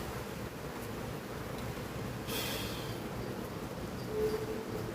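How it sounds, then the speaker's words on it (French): Wind gusting ahead of a thunderstorm on the evening of a July storm, a steady broadband rush with a brief stronger surge in the middle, heard alone without voices. "Le vent se lève."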